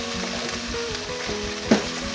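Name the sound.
stirring onions and sugar frying in a pan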